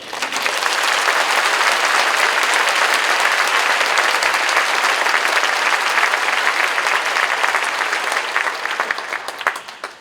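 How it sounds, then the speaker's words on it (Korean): An audience at a Korean church anniversary worship service claps loudly and continuously, dense applause filling the hall for about nine seconds before tapering off. "큰 박수로 맞아주십시오."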